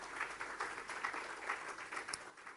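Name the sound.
applause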